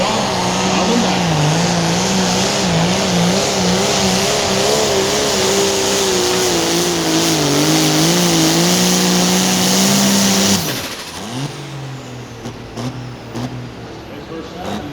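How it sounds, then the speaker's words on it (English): Pulling tractor engine roars loud and sustained at an 8,500 lb class tractor pull, its pitch wavering as it strains down the track, then cutting off abruptly near the end with crowd noise and announcer talk remaining. "First tractor out, drop on the back."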